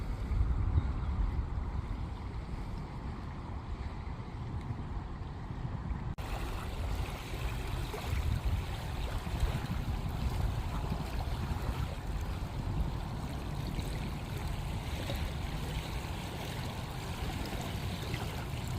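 Small waves, only a few inches high, lap steadily along a lake shore at Moraine State Park in Portersville, Pennsylvania, pushed by a light breeze, with soft continuous washing and wind rush throughout and no voices.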